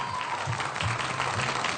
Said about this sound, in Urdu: ایک بار پھر پاکستانی عوام کے لیے, ان جوش و جذبے کے لیے بہت ساری تالیاں بجا دیجیے.